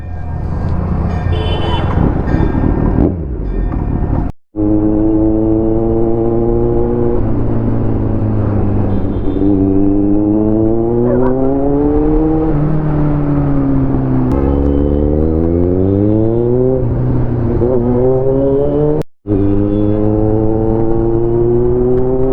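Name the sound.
motorcycle engine revving, Triumph Daytona 675 or Kawasaki Z900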